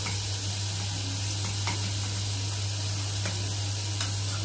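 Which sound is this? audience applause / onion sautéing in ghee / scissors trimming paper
onion sautéing in ghee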